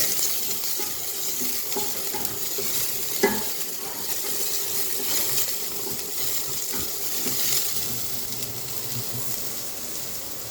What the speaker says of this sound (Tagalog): Igigisa ko po siya ng bawang sibuyas.